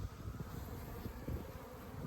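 Honey bees buzzing steadily during a hive inspection, a close, continuous drone with no voices over it.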